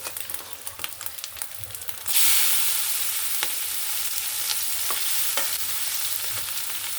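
Fried potatoes go into a hot pan with egg, a sudden loud burst of sizzling frying that keeps hissing steadily while a spoon stirs with occasional scraping clicks; quiet kitchen clatter comes before.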